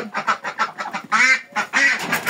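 Ducks on a farm, during a visit for duck plague vaccination, quack loudly and close by in a rapid run of short calls, followed by two longer, harsher honking quacks.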